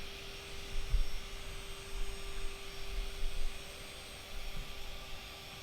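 A car polisher buffs a car hood during a two-step swirl and scratch removal, giving a steady, fairly quiet motor whine with a constant pitch and slight pulses as the pad sweeps across the paint, with no voices.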